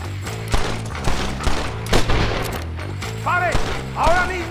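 Gunfire in a Red Dead Redemption shootout: several sharp shots and bursts pop out over a dense background of music and commotion, with fainter whistling ricochet-like sweeps near the end, and no clear talk.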